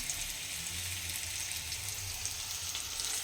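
Chicken pakoras for chilli chicken fry in hot oil, a steady dense sizzle that stays loud and even throughout, close to the pan with no voices.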